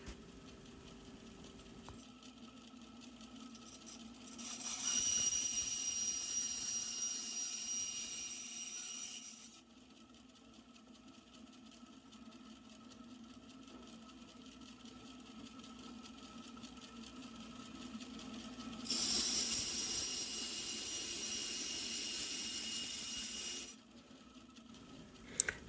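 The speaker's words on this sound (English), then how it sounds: "And then I'll go clean it up on my belt sander." A belt sander cleans up the cut edge of an 18-inch Zildjian Thin Crash cymbal, its motor humming low while two long grinding passes rise to a bright, high metallic whine.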